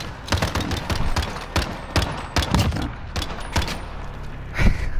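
Bursts of gunshots ring out in a video game gunfight, several sharp loud cracks spaced irregularly over the stretch, some close together, with no voices.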